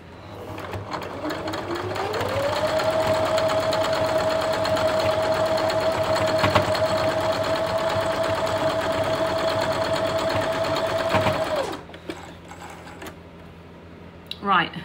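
A sewing machine stitches quilt fabric for a Dutchman's Puzzle quilt block, running at a steady, even hum for about nine seconds before stopping, close and fairly loud, followed by quiet handling noises.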